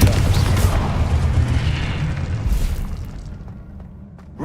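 The Confringo blasting spell in the Hogwarts Legacy video game goes off as a deep, booming explosion, loud and close at the start and then rumbling down into a fading tail, with a fresh sharp burst right at the end.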